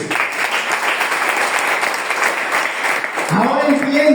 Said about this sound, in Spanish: Usted puede aplaudir a Dios